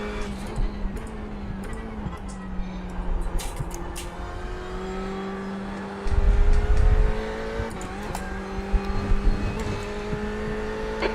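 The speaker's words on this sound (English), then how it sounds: "Faster car approaching." GT race cars lapping Monza in a multiclass racing video game, a continuous engine drone with rising and falling pitch as gears change, a louder rumbling burst midway, and faint ticks and tire noise.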